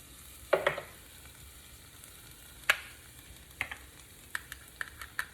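Chopped vegetables for seafood stuffed eggplant sizzle quietly in a pan, punctuated by a series of sharp clicks and clinks of a utensil against the cookware, with no voices.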